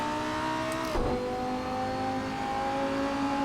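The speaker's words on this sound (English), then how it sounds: "Heard a car behind me, I think." In a sim racing game, a Super Trofeo race car engine drones steadily at Brands Hatch, then another car roars past with a quick whoosh, and the engine tone drops and settles.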